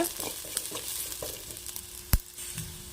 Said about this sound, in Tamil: நல்லா லோ ஃப்ளேமில் வச்சுக்கிட்டு நல்லா வதக்கி எடுத்துக்கோங்க